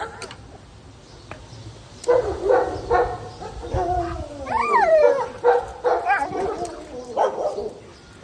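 A dog at an animal shelter yips and barks in bursts close by, mixed with high, wavering whimpers and whines.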